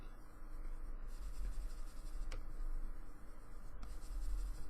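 A pen scratches across glossy Rhodia notepad paper in short continuous strokes, a faint, close, dry scratching over low background hum, with no one speaking.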